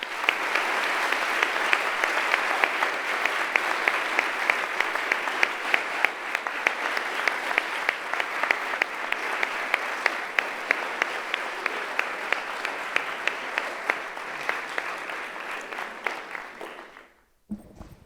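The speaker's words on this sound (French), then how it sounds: "les applaudissements qui viennent de vous être adressés" A lecture audience applauding after a magistrate's talk on crises and terrorism, a dense sustained clapping that gradually thins and stops abruptly near the end.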